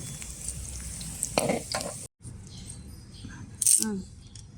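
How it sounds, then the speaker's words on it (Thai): Mackerel frying in hot oil for an old-style Thai fried-fish chu chee dish, a steady close sizzle and crackle with stirring, briefly cut off and then resuming with a louder burst; faint voices come through underneath. "อันนี้เราทอดก่อน"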